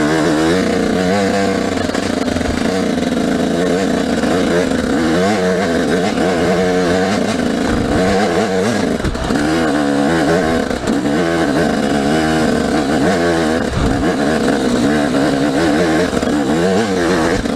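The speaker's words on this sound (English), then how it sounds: "first gear, let the clutch out slow and give it gas" A dirt bike pulls away in first gear with the clutch let out slowly, its engine revving loud and close in rising and falling pulls that run continuously throughout.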